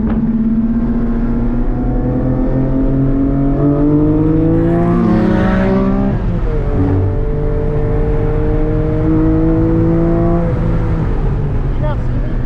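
Porsche 718 GT4 engine droning steadily from inside the car while driving, its pitch climbing and falling through several gear changes, loud and continuous throughout.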